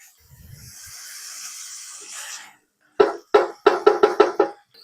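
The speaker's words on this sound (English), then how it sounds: "Now we're just going to fry our ground beef until it is cooked" 80-20 ground beef frying in a pan for American chop suey: a soft hissing sizzle fades away, then a quick run of sharp, close knocks like a utensil tapping the pan.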